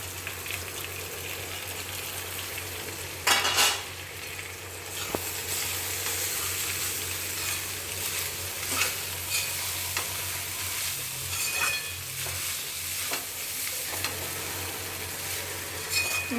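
Poha with onion, turmeric, peanuts and salt stirred in a frying pan, a steady close sizzle with scraping spatula strokes and occasional louder clatters against the pan, no voices.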